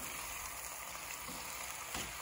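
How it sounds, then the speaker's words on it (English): Three Steak-umms frying in a pan on medium-high heat, giving a faint, steady sizzle and crackle with no talking. "I just added my three steakums into a frying pan and it's on medium high"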